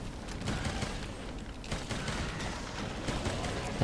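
Light bowgun firing water ammo in Monster Hunter World Iceborne during a fight with Yian Garuga, a steady stream of rapid shots over battle clatter, loud and continuous.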